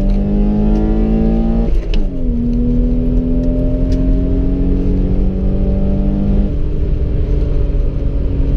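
A 1991 BMW 525i E34 engine pulls hard at full throttle in second gear, a loud, rising harmonic drone from inside the car that steps down at a shift and climbs again, with steady road rumble beneath.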